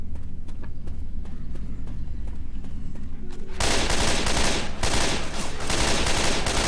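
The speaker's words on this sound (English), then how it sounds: "I do enjoy a good assault rifle." Assault rifle fire in Left 4 Dead 2, with rapid automatic bursts: lighter shots at first, then from about 3.6 seconds a sustained loud stream of fire with a short break near the 4.8-second mark.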